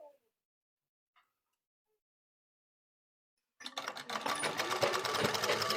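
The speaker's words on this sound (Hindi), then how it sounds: "दूसरी साइड भी इसी तरह सिलाई करेंगे" A sewing machine stitches the side seam of a blouse, starting after about three and a half seconds of near silence as a close, steady rapid mechanical chatter.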